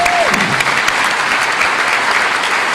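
Applause from the audience at a leadership summit, honouring George: dense, steady clapping fills the whole stretch at close range, with a brief voice tone trailing off at the start.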